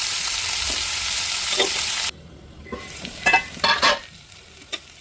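Onions fry in a pan with a loud, steady sizzle that suddenly drops, followed by several sharp scraping clatters of stirring and a quieter sizzle underneath.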